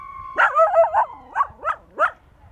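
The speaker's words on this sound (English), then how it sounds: "Excuse the dog barking." A dog barks in a quick cluster of four close barks, then three more spaced yips, fairly near with a whiny edge.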